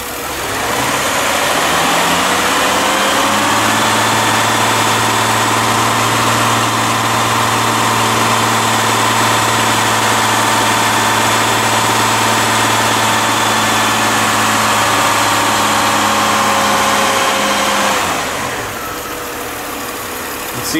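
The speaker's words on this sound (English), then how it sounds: "This is the cooling fan over on this side, and you can barely get a glimpse of the condenser fan here." Car radiator and condenser cooling fans whir under the hood alongside an idling engine, a steady close mechanical drone with a low hum that holds for about fifteen seconds before easing off.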